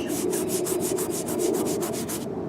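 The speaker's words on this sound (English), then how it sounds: "I've got a lot of sanding to do." Rhythmic back-and-forth hand sanding on a wooden canoe, a dozen quick strokes of raspy scraping at a steady pace, close up, ending abruptly.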